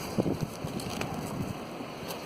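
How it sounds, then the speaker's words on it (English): Gusty wind at North Beach, Great Yarmouth, Norfolk, buffets the microphone near the shore, giving a loud, steady rushing roar with a few sharper thumps early on and no voices. "That wind certainly is gusting outside of the shelter."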